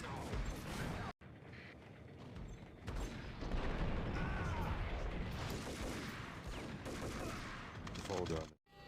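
Dense, sustained gunfire from the video game Max Payne on Dead On Arrival difficulty, with bursts and mechanical clatter running loud and continuous, broken by two brief silent gaps.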